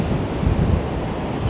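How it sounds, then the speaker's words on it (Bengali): Strong wind blowing on the beach at Puri after rain, a loud continuous roar buffeting the microphone with a low rumble and possible surf mixed in, steady throughout. "এত হাওয়া দিচ্ছে"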